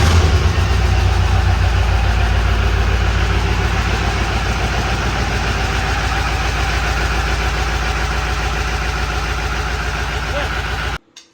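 A race truck engine cranks and fires up, then settles into a loud, steady, rumbling idle with a throbbing low pulse that holds close and strong until it cuts off abruptly near the end.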